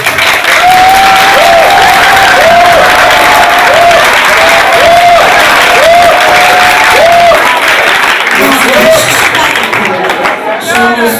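Dense audience applause and cheering fill the hall at a slam poetry final, loud and continuous throughout, with a host's voice speaking over the crowd near the end.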